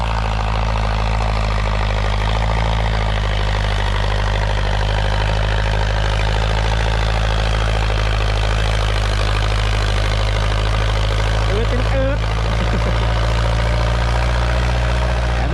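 A New Holland 6640 tractor engine runs loud and close, a constant deep diesel drone with a steady low throb and no letup.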